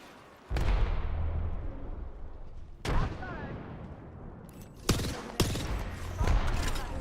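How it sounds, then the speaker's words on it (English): Thermite and frag grenade blasts in the battle-royale shooter Apex Legends: several loud, sudden booms, each trailing off into a long rumbling decay, packed close together amid in-game noise. "Throwing thermite. Frag grenade."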